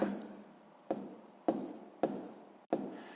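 Numbers written by hand during a sixth-grade math exercise, with close, soft scratchy pen or chalk strokes coming in four or five short bursts, each starting with a tap.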